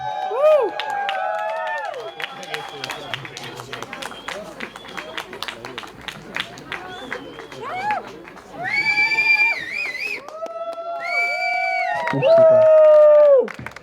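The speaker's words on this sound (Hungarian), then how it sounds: "hatalmas tapsot Lucának!" Festival crowd applauding and cheering for a birthday, steady clapping under whoops and shouting voices, swelling into louder cheers and calls near the end.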